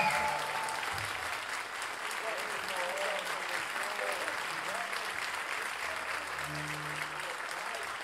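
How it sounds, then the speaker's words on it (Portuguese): Audience applause after a live samba performance, a steady wash of clapping at moderate distance, fairly quiet, with brief voices mixed in. "Uma salva de palmas"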